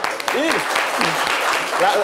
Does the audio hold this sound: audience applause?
yes